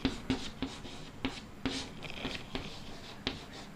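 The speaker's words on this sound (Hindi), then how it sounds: "चलिए ये भी लिखते हैं।" A pen writes notes by hand on paper during a study lesson. Close, quiet scratching strokes come in a steady run of short taps and scribbles, with no talking over them.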